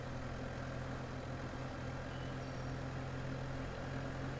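Steady, loud drone of a Hürlimann XM130T4i tractor engine in Farming Simulator 2015, running continuously at a constant pitch with no pauses.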